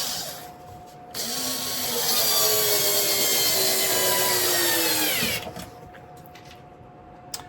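A power driver drives a screw into a wooden model railway baseboard board in one loud, steady whine of about four seconds, with quieter handling noises before and after.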